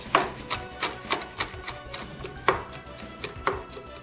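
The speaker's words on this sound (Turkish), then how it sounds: "Sonra tuzun üzerinde kıyıyoruz." A knife finely chops garlic on salt over a board, close crisp taps in a quick uneven rhythm, about a dozen distinct strikes with a few louder accents.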